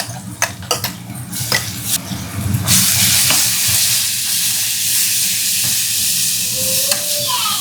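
Cumin, asafoetida, curry leaves and green chillies hit hot oil in a pan, a few utensil clinks giving way to a loud, steady hiss of sizzling that carries on to the end.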